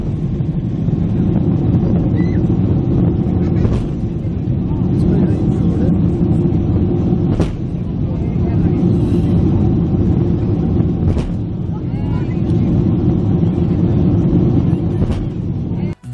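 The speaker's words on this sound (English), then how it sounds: "Boeing 767 shoots flames on takeoff, returning afterwards for a change of the engine." A Boeing 767 takes off with a faulty engine shooting flames: a loud, continuous engine roar broken by sharp bangs at roughly four-second intervals.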